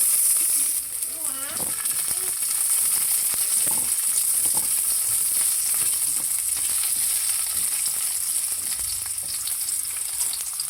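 Onions sautéing in a pan for tinola give a loud, steady, close-up sizzle throughout, with a brief voice near the start.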